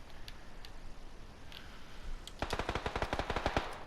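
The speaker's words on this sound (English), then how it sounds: "there's a gunfight going on up there" Machine gun fire from a distant gunfight in the battle royale game PUBG: a few scattered far-off shots, then a rapid sustained burst of loud, sharp automatic fire in the last second and a half, with no talking.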